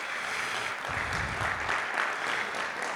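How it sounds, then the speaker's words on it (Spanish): An audience at a psychology congress in Colombia applauds a speaker, a steady, full wash of clapping that holds loud from start to end with no voices on top. "Por favor, un fuerte aplauso para el doctor Carlos Correa."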